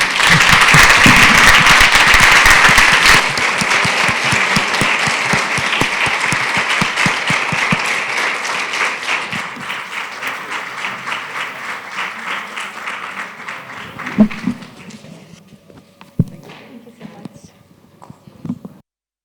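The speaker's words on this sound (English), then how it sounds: "I invite you to give a warm hand of applause." Warm audience applause at an anniversary closing conference, loud and dense at first, then gradually thinning into scattered claps and a few isolated sharp ones as it fades.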